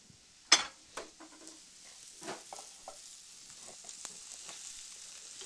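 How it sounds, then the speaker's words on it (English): Tomatoes cooking down warm in a pan give a low, gentle sizzle, opened by a sharp clack of cookware followed by a few quieter knocks and scrapes, all fairly faint and close. "what I'm going to do is just lightly cook down these tomatoes"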